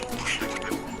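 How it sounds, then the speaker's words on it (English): A quick burst of nasal duck quacks, close and fairly loud, sung by a voice in the children's rhyme Five Little Ducks. "Mummy duck said quack, quack, quack, quack"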